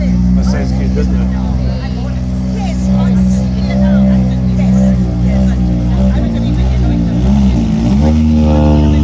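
A rally car engine revs at the Speyside Rally, a loud steady drone with rising and falling pitch, while people talk over it.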